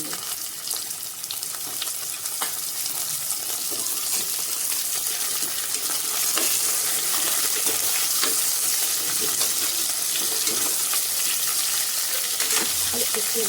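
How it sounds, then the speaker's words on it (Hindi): Chopped cauliflower and potato fry in a pan for khichdi, giving a steady broadband sizzle with scattered clinks and stirring scrapes throughout, no talk. "अब इसमें हम कटे हुए गोभी डाल देंगे, आलू डाल देंगे और इनको भी अच्छा से हम भून लेंगे।"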